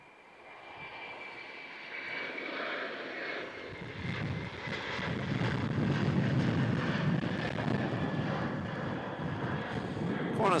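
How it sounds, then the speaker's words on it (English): A Qantas Airbus A330-200 jet airliner bound for Singapore takes off from Melbourne Airport with a broad engine roar. The roar swells from a fainter start and holds steady in the distance, with no talk heard. "Qantas 37 heading to Singapore, A330-200."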